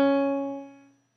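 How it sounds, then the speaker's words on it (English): A half-step interval struck once on a keyboard rings clearly and alone, then fades out smoothly within about a second. "But our basic half step sounds like this."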